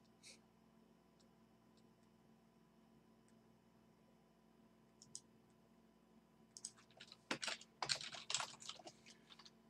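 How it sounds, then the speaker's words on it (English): Typing on a computer keyboard during a live stream, heard as a quick burst of clustered clicks near the end after mostly quiet room tone with a couple of faint isolated taps. "Can you see the text that I'm typing very well?"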